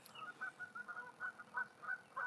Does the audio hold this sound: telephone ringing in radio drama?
no